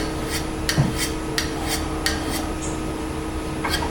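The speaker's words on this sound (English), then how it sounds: "But I'm gonna sharpen this to hone this just a little bit." A bowl coring tool blade is honed with quick, regular scraping strokes, about a dozen evenly spaced rasps of metal close by over a faint steady hum.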